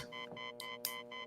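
A phone alarm rings with a repeating electronic tone, bright pulsing beeps that keep going through the short stretch with no voices over them.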